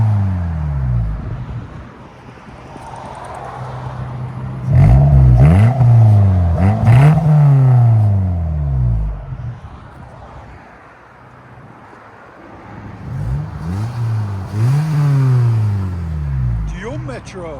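A 1998 Geo Metro 1.3L engine with an automatic transmission and a Vibrant resonator exhaust revs up in two loud bursts with a deep rising and falling drone, idling between them; people talk nearby.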